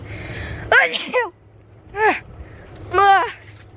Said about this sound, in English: I just sneezed 5 times.